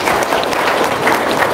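Audience applause at a business seminar: a dense, steady wash of many hands clapping together, loud and close throughout the brief burst.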